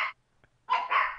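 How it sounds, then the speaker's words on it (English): Dog barking indoors in a short burst: one quick bark, a pause, then a louder doubled bark close by, with no talk over it. "5 minutes of dog bark."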